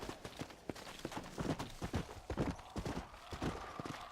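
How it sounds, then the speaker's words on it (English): Rapid hoofbeats of a burning undead horse galloping in Red Dead Redemption: Undead Nightmare, a quick irregular clip-clop rhythm at moderate volume with no one speaking. "War is the horse that's on fire."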